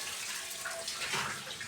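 Tap water running into a kitchen sink used for washing dishes, a soft steady hiss of flowing water, faint and alone with no talking.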